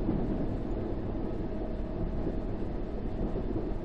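A London Underground train in a simulator game runs on the rails with a steady, dense low rumble that stays level throughout, with no voices.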